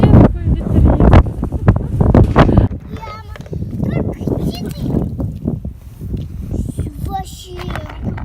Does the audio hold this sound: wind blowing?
yes